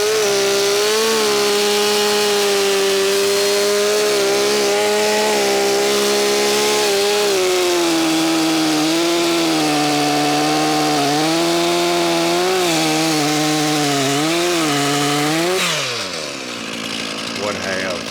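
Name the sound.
chainsaw cutting wood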